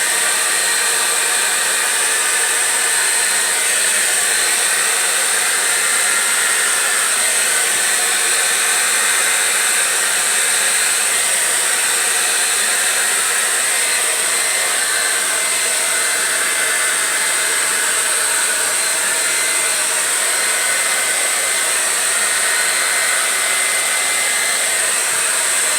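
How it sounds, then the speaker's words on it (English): A blow dryer blows across a wet puddle of paint in a child's painting project, a steady loud whooshing roar that runs unbroken from start to finish. "now with the blow dryer"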